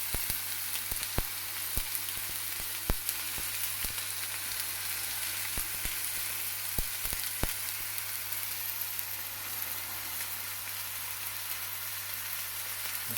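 A medium-rare sirloin steak sears in a very hot pan, giving a steady, even sizzle with scattered sharp pops and spits, alone and at close range.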